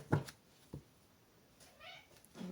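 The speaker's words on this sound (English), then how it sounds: "Can you guys hear our cat?" A cat meows a few times in short, faint cries, quiet and somewhat distant, with gaps of low room noise between them.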